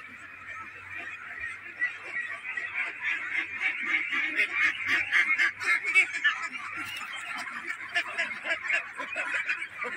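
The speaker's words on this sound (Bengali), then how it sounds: "তার হাঁসগুলোকে এই ঘরেই রাখে।" A flock of ducks kept in their shelter on a small rural homestead gives a continuous, dense chorus of honking, nasal quacks, fairly close and steady throughout, with no talk over it.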